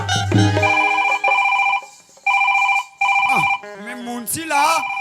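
A mobile phone rings loudly on stage during a Chhattisgarhi nacha comedy performance, a repeating two-tone electronic ringtone pulsing in steady bursts before a voice breaks in with warbling, singsong sounds.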